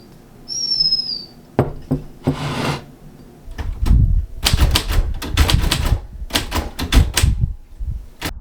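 Keys of a manual typewriter strike in irregular clusters of sharp close clacks, preceded by a few isolated taps and a brief high whistle-like tone at the start.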